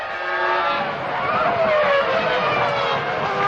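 Rubens Barrichello's Ferrari Formula 1 car during second free practice at the 2001 Spanish Grand Prix, its high-pitched engine screaming loudly and steadily throughout with rising and falling pitch, joined by faint tyre squeal.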